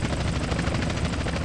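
Helicopter chasing the player in the video game GTA San Andreas, a loud, close, steady rotor chop beating rapidly and continuously with engine whine beneath.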